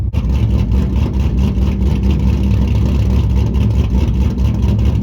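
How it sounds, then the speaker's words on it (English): A loud, rumbling cammed 2004 Pontiac GTO with an LS1 V8 idles with a lumpy, uneven lope, steady and close throughout, with no talking. "Any car guy or gal knows the intro to that song because it sounds like a cammed car."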